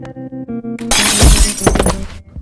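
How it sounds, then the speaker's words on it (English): A golden vase smashes against cold stone slabs in an audio drama, a loud close burst of breaking glass-like shatter over a musical score, with fragments ringing and scattering for about a second before the music resumes. "The golden vase shattered as Sleepy splattered against the cold stone slabs once more"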